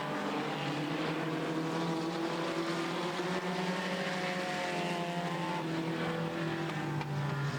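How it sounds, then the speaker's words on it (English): Race cars roar around the track at Buffalo River Race Park in a dense, continuous, loud engine drone that holds steady throughout with no talking. "Katie Arndt having a tough time with that car"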